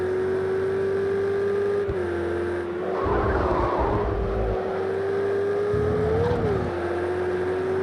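Race car in Project Cars 2 at the Red Bull Ring, a loud sustained engine note that dips and climbs under acceleration, with bursts of tire scrub and rumble partway through.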